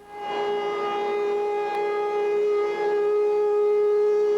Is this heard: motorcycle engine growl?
no